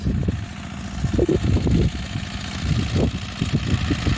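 A small engine chugs close by with an uneven, knocking rhythm, the 12-year-old walk-behind tractor running steadily throughout.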